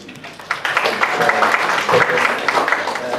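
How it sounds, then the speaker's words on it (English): Audience applause at a business leadership talk, a dense steady wash of many hands clapping at moderate loudness, with some faint voices mixed in. "ladies and gentlemen, please give him a round of applause"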